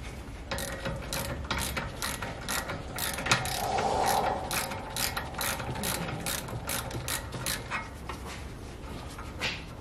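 A ratchet wrench loosening a brake caliper bolt on a Mitsubishi with electric brakes, clicking in a steady rapid rhythm for about ten seconds, loud and close, with a metallic scrape partway through.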